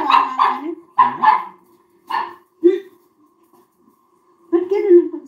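A dog barks close by in several short bursts, a pair of yaps followed by single barks and a final longer volley, with quiet pauses in between.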